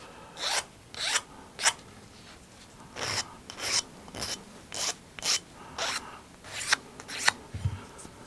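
A new wooden violin bridge being smoothed by hand, about a dozen short rhythmic rasping strokes at an even pace, close and crisp, with quiet pauses between strokes and no talking.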